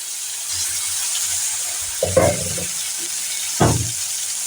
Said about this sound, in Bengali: আমি এবার কড়াইতে মাছ ছেড়ে দিলাম। মাছগুলোকে লাল লাল করে ভেজে নেব।